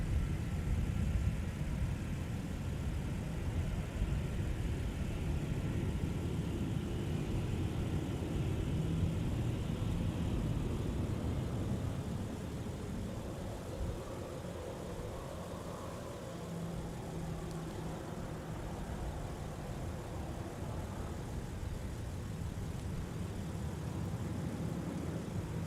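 A Delta airliner taxiing at Minneapolis–Saint Paul airport, its engines giving a steady, moderately distant low rumble and whine that holds throughout and eases slightly partway through, with no talk.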